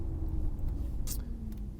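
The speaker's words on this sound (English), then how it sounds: "engine noise. I've put it in sport mode now. Don't know if you can hear that." A new Maserati GranTurismo in sport mode produces a steady low engine rumble with simulated engine sound, heard from inside the car, with a brief higher whoosh partway through.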